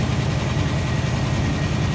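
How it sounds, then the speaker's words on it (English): Steady, smooth idle of a 1951 Oldsmobile 98 Rocket V8 fitted with an Edelbrock tri-power manifold, a continuous low rumble with no talk. "Nice and smooth that engine runs."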